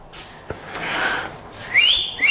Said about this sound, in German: Pfeif mal.